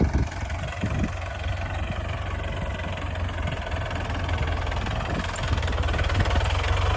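A 1983 or 1984 model tractor without hydraulic steering idles steadily in a field with a low, chugging rumble and faint knocks, continuous and fairly close, with no voices.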